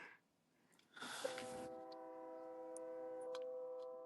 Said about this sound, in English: Is it doesn't help I have my window open, so you're gonna hear it.